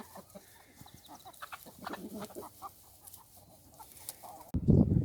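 Chickens cluck softly and intermittently as two pastured flocks are merged, with scattered close clucks over quiet outdoor background and a sudden louder rustling burst at the end.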